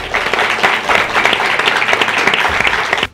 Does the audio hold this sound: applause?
yes